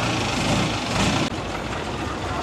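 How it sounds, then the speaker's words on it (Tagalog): A steady, loud motorboat engine drone at a Bangkok floating market, rumbling close by with a brief dip midway before resuming. "Kasi ang ingay ng bangka."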